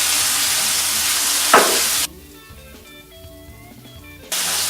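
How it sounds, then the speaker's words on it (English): Bacon sizzles loudly in a hot pan while searing after sous vide cooking, a close, bright hiss that drops away briefly to quiet background sounds before the sizzle returns. "you can hear the pan sizzling really well"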